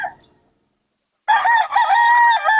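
A gamefowl stag, a young rooster of Gilmore Hatch bloodline, crows once loudly and close by after a brief silence, the call held steady for over a second.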